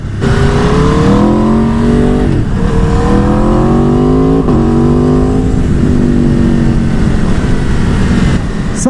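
A loud Aprilia sport motorcycle engine, RSV4 or Tuono 1100 Factory, revs up repeatedly, pitch climbing and dropping in several sweeping bursts, very close and dominating throughout.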